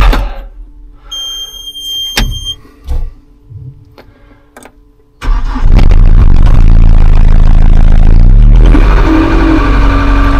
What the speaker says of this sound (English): So I'll get the machine fired up and get this thing graded, concrete coming.